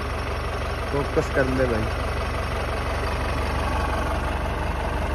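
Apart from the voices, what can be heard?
2002 Mahindra MDI jeep engine idling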